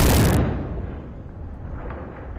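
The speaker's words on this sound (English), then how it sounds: "A controlled explosion today to demolish part of the doomed Francis Scott Key Bridge in Baltimore" A controlled demolition blast brings down a steel span of the Francis Scott Key Bridge in Baltimore: a sudden loud burst that cuts off quickly, followed by a low rolling rumble that lingers and slowly fades.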